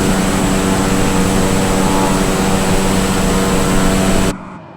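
A Cessna's engine drones in a flight simulator game, a loud, steady, close hum with a low rumble beneath it. It runs unchanged without any talking, then cuts off abruptly just before the end.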